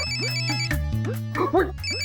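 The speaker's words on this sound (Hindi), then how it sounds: "तेरा फोन बज रहा है।" A mobile phone rings with a repeating electronic ringtone, steady, pulsing tones heard close by, with a low hum running underneath.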